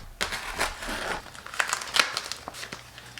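Plastic wrapping on a parcel marked fragile is crinkled and pulled open in a run of close, fairly quiet rustles and sharp crackles.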